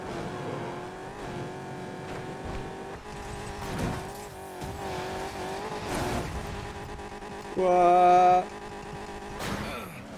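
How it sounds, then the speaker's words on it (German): An Audi R8 drifting in the racing game Need for Speed Payback: a whining, revving engine rises and falls, with a sharp, loud tonal squeal of tires breaking out for about a second near the end. "Der Drift mit dem ist nicht leicht, Leute."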